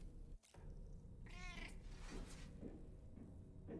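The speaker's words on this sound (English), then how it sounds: "What's this kitty cat doing?" A cat meows in the video game Death Stranding 2, a short wavering cry standing out once over a steady low ambient rumble, with faint further sounds following.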